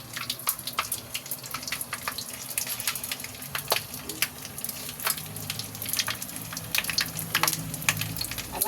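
Squid fries in hot oil, with a constant close sizzle broken by many sharp, irregular pops and spatters as the pieces curl and shrink.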